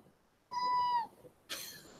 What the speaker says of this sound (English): Here's the kitten, which as you can see, not so much a kitten.